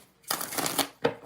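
Tarot cards get a quick close shuffle, a dense riffling rush of cards followed by a sharp snap as the deck comes together.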